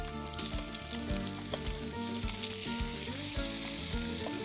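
Fish sizzling in a hot pan during flipping, a loud continuous frying hiss over a harmonic musical background, near and steady without speech.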